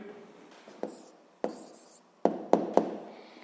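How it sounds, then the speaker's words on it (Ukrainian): Pen writing an answer on paper, quiet scratchy strokes punctuated by several sharp taps and marks at uneven intervals, close and alone. "Ну що ж, записуємо відповідь."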